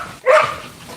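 A single short bark or vocal yelp from a wolfdog outdoors near a tent, one brief loud burst followed by quiet.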